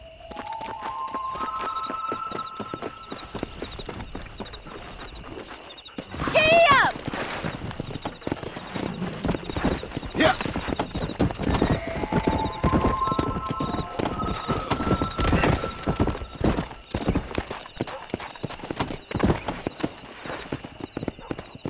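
Horse hooves clip-clop at a galloping pace in the video game Red Dead Redemption, with occasional neighs and game music tones. The hoofbeats stay loud and continuous throughout, with a brief burst of louder sound partway through.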